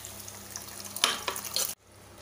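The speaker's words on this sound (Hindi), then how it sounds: "अब इसे हम तड़का में डालेंगे। अब इसमें दाल आप डालें" Cooked chana dal poured into a hot tadka for Amritsari dal gives a splashing, sizzling burst over a low frying hiss, then stops abruptly into quiet.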